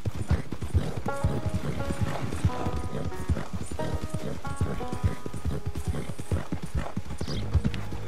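Galloping horse in Red Dead Redemption II, rapid hoof clip-clops pounding steadily, with a horse whinnying in the middle and game music tones above.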